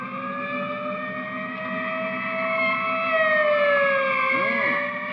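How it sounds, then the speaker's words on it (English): A wailing siren from a police ambulance rises and falls steadily in the distance, a continuous mournful tone on a 1949 film soundtrack with no talk over it. "Police ambulance and everything."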